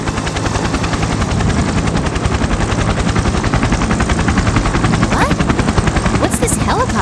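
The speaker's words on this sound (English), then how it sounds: "What's this helicopter doing here?" A loud, continuous helicopter rotor thump in the video game Persona 4 Arena Ultimax fills the scene, steady and close, with scattered bursts of gunfire-like pops layered on top.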